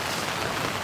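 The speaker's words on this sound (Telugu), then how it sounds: "గొడుగు చూడు ఎలా వర్షం వస్తుందో." Rain falling steadily on a surface, a dense broadband hiss that holds even and fairly loud through the short moment, with no voices.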